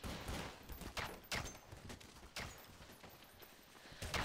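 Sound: pistol gunfire from bots in video game Counter-Strike: Source

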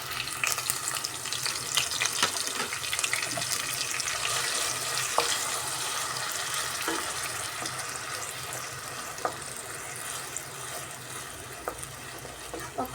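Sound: onion paste frying in pan

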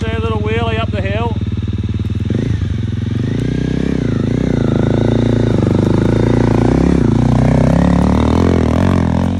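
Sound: motorcycle revving and accelerating up a hill

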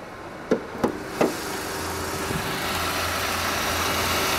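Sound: Mercedes CLK car engine idling

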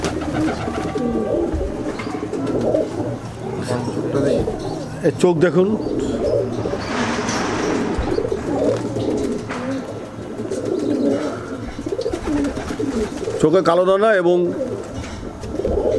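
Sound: Madrasi pigeons cooing

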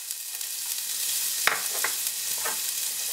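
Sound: crushed garlic sizzling in oil with spices

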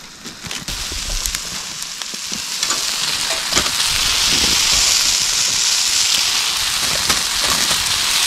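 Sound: shiitake mushrooms grilling on an iron griddle

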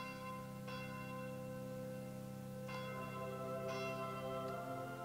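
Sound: church bell ringing in Fire Emblem Echoes video game

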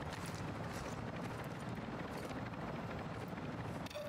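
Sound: helicopter flying in video game DMZ

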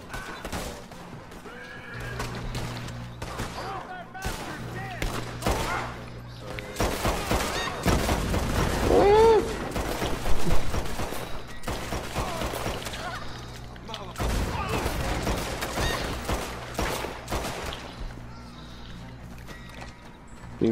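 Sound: gunfire in the video game Red Dead Redemption 2

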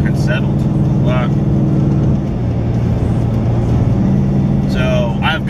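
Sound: 2015 Mustang GT Stainless Works exhaust droning while cruising at 85

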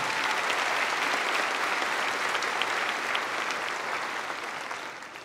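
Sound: graduation audience applause for faculty, friends and family

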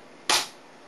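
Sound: mini electrokinetic gun firing

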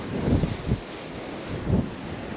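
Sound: wind

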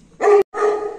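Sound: Pakistani Bully dog barking

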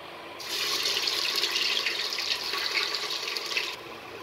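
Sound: chopped onion added to smoking hot oil and frying

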